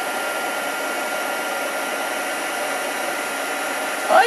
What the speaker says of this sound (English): heat gun, I'm just going to get rid of the last little flecks of embossing powder that are still on there.